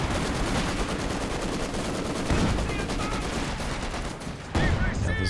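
A mortar and artillery barrage in a Company of Heroes 2 match: dense, continuous explosive rumble and rattling fire, loud and sustained, with a heavier burst near the end and a commentator's voice underneath.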